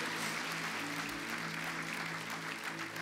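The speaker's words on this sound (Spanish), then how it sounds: "Dele fuerte el aplauso al Señor." A church congregation claps and applauds at a worship service, a dense, steady roar of many hands that holds evenly throughout without any talk.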